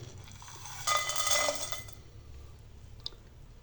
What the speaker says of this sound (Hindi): इसमें मिसालों को 5 मिनट तक धीमी आंच पे भून लेते हैं